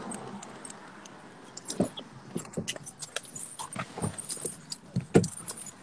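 Keys jangling close by in a few irregular bursts of bright metallic clinks over a faint background hum, with no talk.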